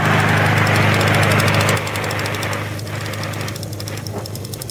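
Several small hobby engines run steadily during a tachometer test, a loud continuous buzzing drone with a strong low hum that drops slightly in level partway through and carries on alone.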